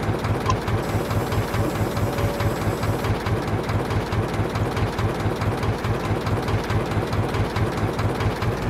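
A tractor engine idling with a steady, rhythmic low chugging throb, close and constant throughout.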